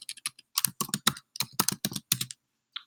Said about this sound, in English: I'm just gonna type in Autocrat